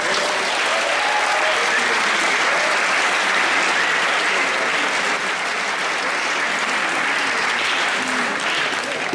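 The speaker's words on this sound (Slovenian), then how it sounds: "da tudi iz tega mesta si Jure Ledinek zasluži en velik aplavz." Loud, sustained applause from a large audience at a school's end-of-year awards ceremony, a thick and steady roar of clapping lasting about nine seconds with faint crowd murmur underneath.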